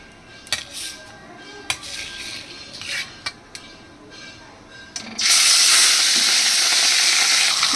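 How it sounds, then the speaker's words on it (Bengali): Fish pieces dropped into smoking hot oil for a spicy taro and potato fish curry, giving a few sharp clicks and pops before a loud, steady sizzle and hiss takes over. "তেলটা আমার গরম হয়ে গেছে, তেলের থেকে ধোয়া উঠছে। এবার আমি এর মধ্যে দিয়ে দিচ্ছি মাছগুলো একে একে।"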